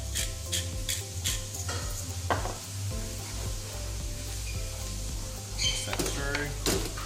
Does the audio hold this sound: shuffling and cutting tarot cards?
no